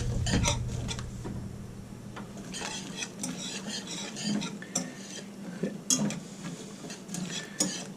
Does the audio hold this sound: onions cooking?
yes